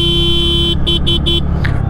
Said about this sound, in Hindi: हॉर्न की क्वालिटी एक बार आप सुनो